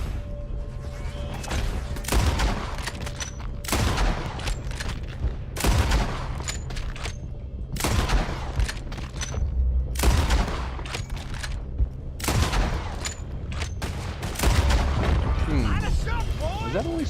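Rapid bursts of gunfire from shooting enemies in Red Dead Redemption 2, loud repeated volleys and booms every second or two, with game ambience running underneath throughout.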